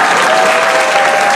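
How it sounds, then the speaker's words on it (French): A forum audience breaks into loud, dense applause at a speaker's remark, a continuous, close wash of clapping with a faint steady tone running beneath it. "On applaudit quand j'ai dit ça dans ma vie."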